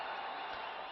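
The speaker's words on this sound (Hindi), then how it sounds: "तालियों की गूंज आई है इस बार इखलाक की तरफ" Crowd applause at a Lahore versus Peshawar cricket match, a faint, steady wash of distant clapping from the stands.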